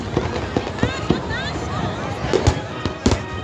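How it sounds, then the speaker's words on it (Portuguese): New Year's Eve fireworks over Icaraí beach at Réveillon 2023, with scattered pops, crackles and whistles over a steady crowd murmur with voices. "Queima de fogos na praia de Caraí, Réveillon 2023."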